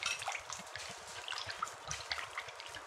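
Vegan coleslaw dressing pours out of a bowl in a thin, trickling stream with scattered drips and splashes, soft and close.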